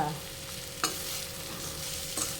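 Washed poha (flattened rice) being stirred in a pan, giving a steady close scraping and light sizzling with one sharper scrape of the spoon partway through and another near the end, with no talk.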